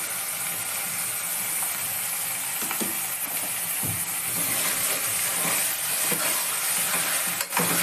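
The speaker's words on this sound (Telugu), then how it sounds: "ఇప్పుడు నేను ఇందులోకి మటన్ యాడ్ చేసుకుంటున్నాను." Half a kilo of freshly washed mutton hits a pan of fried onions, setting off a loud, continuous sizzle and hiss close by, broken by scattered clinks and scrapes of stirring.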